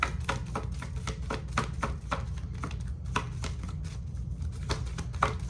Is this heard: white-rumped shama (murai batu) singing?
no